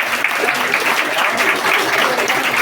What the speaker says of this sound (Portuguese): a gente, palmas aqui